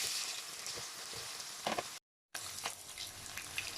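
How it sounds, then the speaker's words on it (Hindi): Boiled potatoes frying in oil in a pot, a faint steady sizzle with a few soft stirring clicks, briefly cut to silence midway before the hiss resumes, no voices. "आधे आलू जो हैं वो मैंने पहले शामिल किए हैं और इनको मैं क्रिस्पी करके यानी गोल्डन कलर इन पे जैसे ही आएगा"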